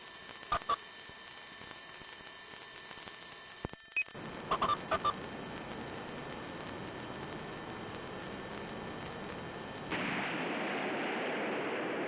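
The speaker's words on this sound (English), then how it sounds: "Gunshot." Sharp gunshot sound effects in the visual novel game Ghostpia: a couple of isolated cracks early, then a quick cluster of shots over a faint hiss, with a steady noise bed joining near the end.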